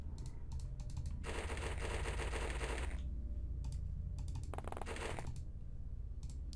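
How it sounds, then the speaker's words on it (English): Bursts of automatic gunfire fired at a zombie in the video game The X-COM Files, several rapid volleys of sharp, close shots with short pauses between them. "open fire"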